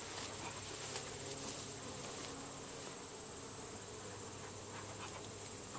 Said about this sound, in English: Bees are already starting to hit me.